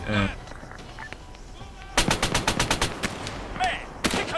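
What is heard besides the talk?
tank machine guns firing in video game Arma 3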